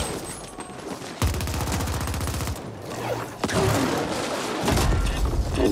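Gunfire from The Ascent video game, heavy rapid bursts of automatic shots in repeated volleys with booming impacts, loud and continuous across the clip.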